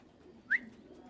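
One brief, bright call from a pet pigeon rises out of a quiet, low background hum, close and heard alone.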